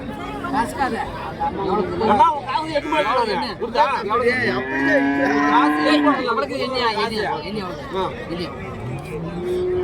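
Calves moo repeatedly at a busy livestock market in Orappam, Krishnagiri district. Drawn-out bellows rise over constant crowd chatter, with people talking nearby throughout.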